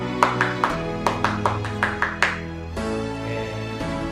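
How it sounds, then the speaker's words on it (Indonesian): A group does the rhythmic Scout clap (tepuk pramuka), a patterned series of about eight quick claps at a school Scouting session, set over a steady sustained music bed that shifts midway. "mari kita tepuk pramuka dulu nih biar tetap semangat ya"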